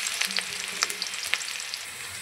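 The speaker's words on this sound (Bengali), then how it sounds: "আমি এখন দিয়ে দেবো পেঁয়াজ কুচি এবং মরিচ" Chopped onion and chili fry in hot oil with a steady, close sizzle, broken by crisp pops and crackles and occasional stirring scrapes.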